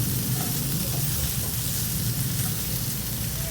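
Okra stirred in hot oil in a pan fills the whole stretch with a constant close sizzle and crackle. The rain-like hiss holds steady, and no one speaks.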